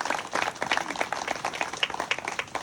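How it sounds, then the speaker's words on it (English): Audience applause at a historic preservation awards ceremony, steady dense clapping from a crowd filling the whole stretch, fairly close and even in loudness. "Let's please give the superintendent a round of applause."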